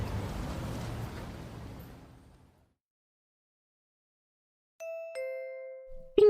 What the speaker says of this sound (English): I ring the doorbell, but no one answers.